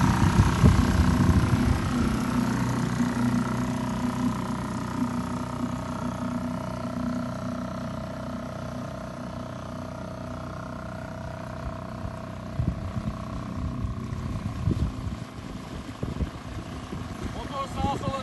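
A boat outboard motor runs steadily at close range, a continuous droning hum with a few brief knocks near the end, and no talk over it.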